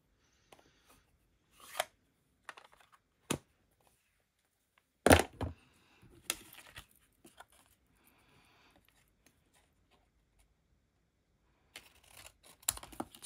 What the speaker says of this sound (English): chop it with my snips